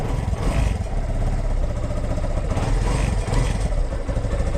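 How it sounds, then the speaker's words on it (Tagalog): A small engine warms up in cold, rainy weather, idling with a steady low, rattling chug, running continuously with no talk. "Tayo pinagpapainit na ng makina."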